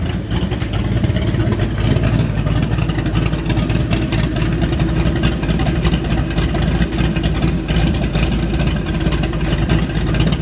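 A 1989 Ford Mustang GT V8 engine runs steadily up close, a loud, continuous low rumble with no talking.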